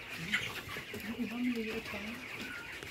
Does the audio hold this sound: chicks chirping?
yes